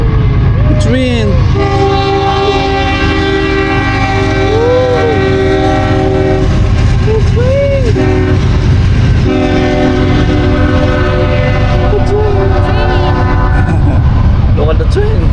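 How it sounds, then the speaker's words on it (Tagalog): A passing train blasts its horn in long, loud sustained tones with a deep steady rumble of rail cars underneath throughout, close by and continuous. "Yan na yung train. Yan ang train. Wow, the train."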